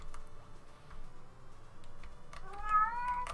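An irritated pet house cat gives one sharp, angry meow near the end, close and clear, after a stretch of quiet room noise with faint ticking.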